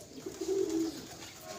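Pet birds being hand fed give a single soft, low coo lasting about half a second, fairly quiet and close, with no talking.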